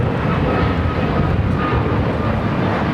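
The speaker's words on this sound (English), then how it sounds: "United Airlines 2390 taking off to Seattle on the MAX 8" United Airlines Boeing 737 MAX 8 taking off at LAX, a steady broadband engine roar holding loud and constant throughout with no talk over it.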